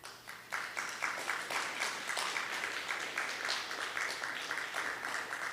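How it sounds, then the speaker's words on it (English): Graduation convocation audience applauding for a virtual school ceremony: after a brief lead-in, a full room of clapping starts and holds steady with a faint pulsing rhythm, fairly close and even in level. "take this moment to applaud them"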